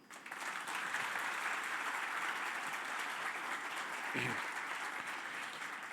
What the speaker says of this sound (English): I ask you to join me to support and applaud our teachers